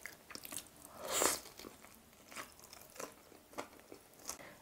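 Close, crisp bites and crunching on Lotteria fried snacks (cheese sticks, squid rings and Gpai fried chicken in habanero and savory flavors), with a loud crunchy bite early on and several softer chewing crunches following, no talk.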